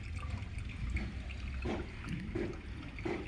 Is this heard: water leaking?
yes